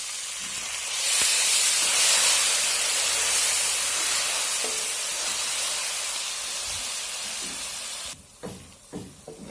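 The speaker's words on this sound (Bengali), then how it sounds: "3 টেবিল চামচ বিরিয়ানি মশলা এবং সামান্য পরিমাণে জল দিয়ে মশলাটা ভালোভাবে কষিয়ে নেব নেড়েচেড়ে" A pan of biryani masala with a little water, cooked down for egg biryani, gives a steady, loud hissing sizzle throughout. The sizzle drops away near the end, leaving a few soft clunks of stirring.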